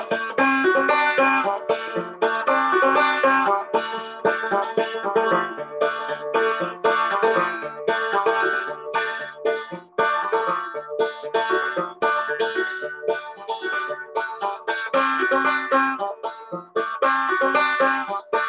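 A banjo plays a steady finger-picked version of Pretty Polly, a Southwest Virginia tune, bright plucked notes rolling continuously without pause and no voices.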